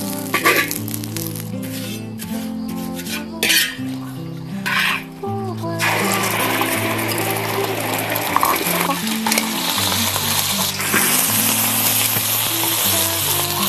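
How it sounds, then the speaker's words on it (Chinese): Laver seaweed is stir-fried in a pan for a Fujian seaweed-and-egg dish, giving a bright dense sizzle and spatula scraping over the second half, after a stretch of clinks and pan handling, with background music underneath. "把紫菜给它煸绿"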